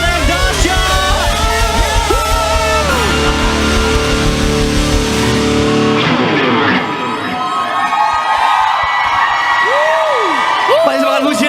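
A church youth revival congregation applauds and cheers loudly, with shouts, whoops and a steady rhythmic clapping beat under the crowd noise, and the clapping thins out partway through while the cheering carries on.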